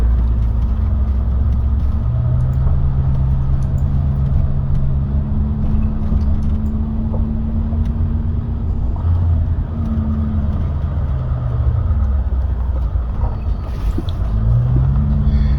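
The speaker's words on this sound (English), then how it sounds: "Climbing between these dunes. All the vehicles working a little bit." Off-road vehicles climbing between desert sand dunes on a border track, a loud steady engine rumble with rising and falling revs throughout, no voices.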